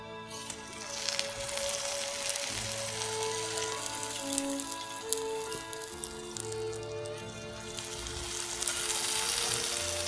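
Kadayıf-wrapped yufka dessert fries in hot oil with a steady, dense sizzle and crackle, close up, accompanied by faint clinks and stirring noises and no speech.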